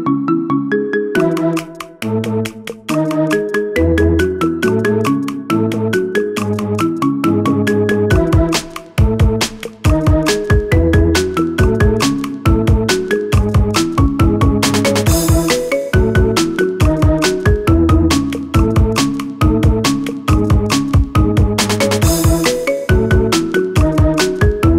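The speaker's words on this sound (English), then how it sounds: "Get this cool ringtone for your phone now." A marimba remix of a pop song plays as a phone ringtone, bright struck mallet notes in a bouncy melody over a steady beat, loud and continuous.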